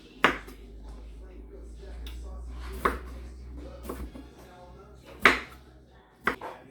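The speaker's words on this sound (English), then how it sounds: "we are going to go ahead and cut this up into some pieces" Broccoli being cut into pieces on a board, a few separate knife chops spaced irregularly, fairly close, with soft kitchen noise between them.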